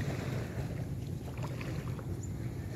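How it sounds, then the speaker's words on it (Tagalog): Steady low engine drone of boats moving along a Pacific coastline, mixed with wind buffeting the microphone and the wash of water, continuous and moderately near. "yan yung mga bangka na yan"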